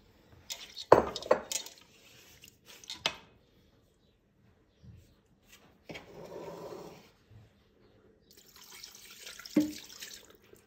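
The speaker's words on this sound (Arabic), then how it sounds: "غادي نزيد شويه الماء من هنايا" A kitchen tap adds water while a Moroccan mrouzia is cooked, with short splashy runs of water and clinks of dishes and utensils in quiet bursts, close by and with no talk.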